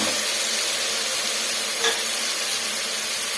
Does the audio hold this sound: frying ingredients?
yes